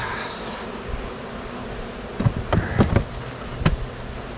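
Bees at a pair of backyard beehives give a low, steady buzz throughout, broken by a few louder, closer bursts as insects pass near, with several brief knocks or handling sounds in the second half.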